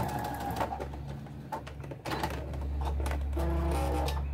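A sewing machine runs a backstitch at the end of a seam on a dish towel, a close mechanical whir with rapid needle clatter and a low motor hum, briefly pausing before running on steadily.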